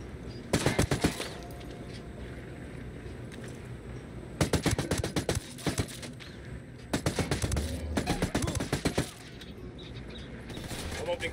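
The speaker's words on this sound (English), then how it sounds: "opening fire on these shitheads" Automatic gunfire in Ghost Recon Wildlands, with light machine guns and pistols in play: three long bursts of rapid shots over a steady game ambience, each burst lasting about a second or more.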